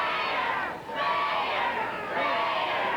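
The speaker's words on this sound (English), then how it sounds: "And the crowd is beginning to yell," A large arena crowd at a pro wrestling match yells and chants in unison, loud and continuous, swelling in waves with one brief dip.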